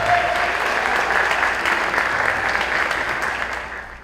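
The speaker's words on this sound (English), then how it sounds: "a round of applause" Sustained applause from a crowd at a high school state of the school address, dense and steady clapping that holds strong throughout before easing slightly at the end.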